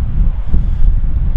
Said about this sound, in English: And it's a very windy, foggy day out today.